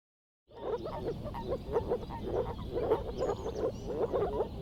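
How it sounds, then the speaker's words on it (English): A tiny Mount Iberia frog from Cuba croaks in a steady series of loud, close, rhythmic calls, repeating about twice per second with no voices over it. "the tiny Mount Iberia frog from Cuba has a sound of about 80 decibel"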